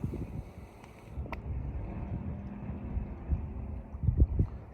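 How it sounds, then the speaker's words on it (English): Gusty wind buffeting the microphone on the shore of the Menai Strait in the evening, a low rumbling roar that rises and falls, with faint lapping sea water beneath and no speech. "It's a bit windy, there's a lot of wind"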